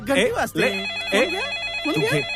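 A telephone rings with a repeating electronic warble in bursts in an indoor scene from a Hindi feature film, heard beneath continuous male speech.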